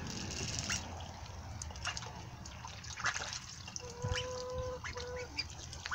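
Young ducklings about a month old peep and quack near and softly outdoors, with faint water sounds and a few brief higher calls, no talking.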